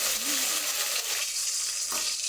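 Fennel seeds, shallots and garlic frying in a pan for an amma-style sardine (mathi) fish curry: a steady, close sizzle with faint stirring sounds, heard alone with no talk.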